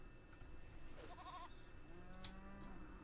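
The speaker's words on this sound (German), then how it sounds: "Page macht jetzt die Ziege und bringt die da rein" A goat bleats in a RimWorld colony, a short wavering call followed by a second fainter bleat over steady low game ambience.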